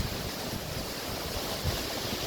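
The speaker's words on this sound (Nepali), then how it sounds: "ल हेर्नुहोस् कस्तो राम्रो झरना छ" A waterfall beside the mountain road to Manang roars as a dense, continuous wash of rushing water, broad and steady throughout, with a touch of wind buffeting the microphone and no talking.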